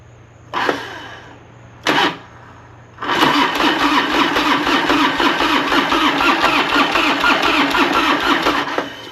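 A carbureted Harley FXR motorcycle that has sat almost a year cranks twice in short bursts, then fires up and settles into a loud, steady rumbling idle close by.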